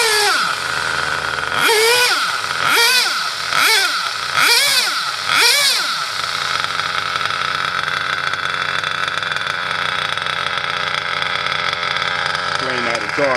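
A Redcat Dunerunner RC car's small gas engine idles with a buzzy drone, revved in five quick whining bursts in the first half, then left running steadily, recorded close.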